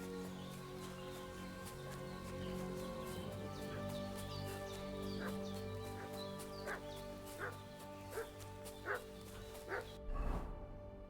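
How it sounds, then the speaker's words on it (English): A dog barks and yips repeatedly in a village in Kingdom Come Deliverance 2, excited fussing with whimpers over a steady ambient drone, the barks growing sharper and louder toward the end. "What's that dog making such a fuss about?"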